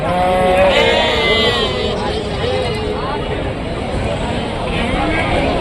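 Goats bleat at a busy livestock market, their wavering calls mixed into a dense crowd babble and steady outdoor noise. The calls rise now and then over constant background chatter.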